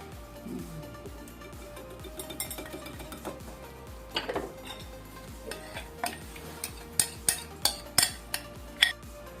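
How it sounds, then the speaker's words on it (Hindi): Russian salad with peas and a creamy dressing being mixed in a bowl, giving soft, repeated scraping and a run of regular spoon clinks against the bowl's side that grow sharper toward the end. "अब इसको मिक्स करते हैं अच्छे से।"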